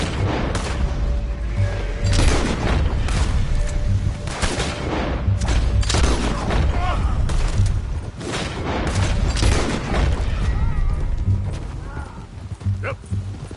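Rapid gunfire in the video game Red Dead Redemption 2, a loud, dense fusillade of repeated shots with booming reports, mixed with horse hooves and voices shouting over the battle.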